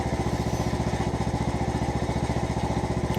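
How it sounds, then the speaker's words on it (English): A riding lawnmower runs on a cold day just after starting, with a steady, close, rhythmic engine chug that pulses evenly throughout. No voices are heard. "You know it's cold out when a riding lawnmower smokes like that when you start it."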